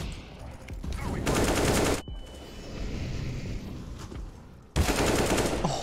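Sustained automatic gunfire in Counter-Strike: Global Offensive, loud dense bursts of rapid shots with brief pauses between volleys, close and dominating the mix.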